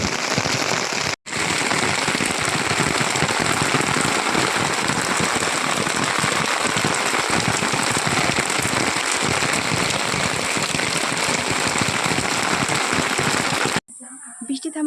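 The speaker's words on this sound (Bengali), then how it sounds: "নিমতরি আসতেই জোরে বৃষ্টি শুরু হয়ে গেছে।" Heavy rain pours down outdoors as a dense, loud, continuous hiss with a brief cut near the start and near the end, and a voice speaks over it at times.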